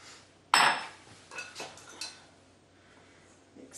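Self-rising flour and sugar mixed in a bowl: one sharp clink of a utensil against the bowl, followed by a few soft, quiet taps and scrapes in a still kitchen.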